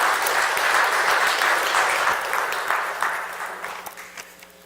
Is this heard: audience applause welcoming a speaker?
yes